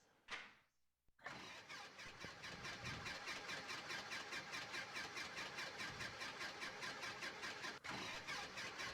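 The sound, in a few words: Super Cub aircraft engine cranking in flight simulator game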